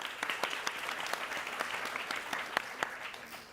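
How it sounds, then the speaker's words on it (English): An audience at a UXDX New York design event applauds, producing steady, moderately distant clapping with a few sharper individual claps standing out over a few seconds. "So applause for Ryan"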